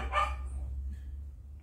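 A dog gives a single short, nearby bark that fades out quickly, leaving a low background hum.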